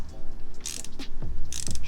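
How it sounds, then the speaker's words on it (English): Wrench tightening the oil drain bolt on a 2006 Honda CRF450X, a few short metallic ratcheting clicks and scrapes in quick bursts, close up with no talking. "grab your wrench again, and now tighten it"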